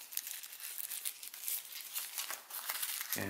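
Origami paper for a baby Ryujin model crinkles and rustles close up in a steady run of soft, crisp crackles as it is folded over, ending with a light knock.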